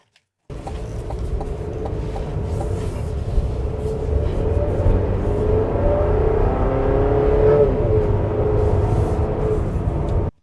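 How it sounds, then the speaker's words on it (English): A 2025 Buick Enclave Sport Touring SUV engine revs up and pulls hard while merging into traffic, a steady loud drone that rises in pitch as it accelerates, heard from inside the cabin with no talking. "You can definitely hear that engine working."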